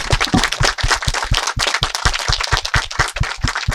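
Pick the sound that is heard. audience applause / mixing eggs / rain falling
audience applause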